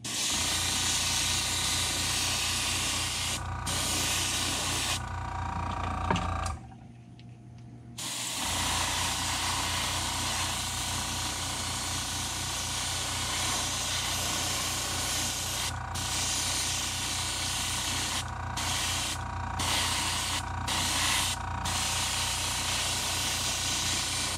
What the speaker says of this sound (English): We're going to spray directly on with our Wicked White.